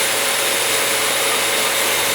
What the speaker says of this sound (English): we've got both drills running full tilt